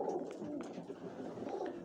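Pigeons back at their loft give soft, low cooing calls, a muffled continuous burble at fairly close range with faint background noise.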